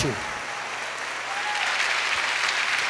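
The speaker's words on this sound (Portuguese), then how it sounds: "Pode aplaudir, é muito bom." Church audience at a priest's talk breaks into sustained applause, a dense even wash of clapping that holds steady and grows slightly louder over about three seconds.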